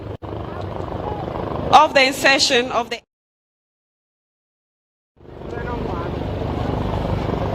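A Ghana Air Force Chinese-made Z9 helicopter flies over an Independence Day celebration, a steady rotor and engine roar under a public-address announcer, cutting out briefly before the broad drone returns.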